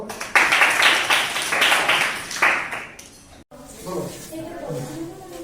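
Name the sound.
students clapping hands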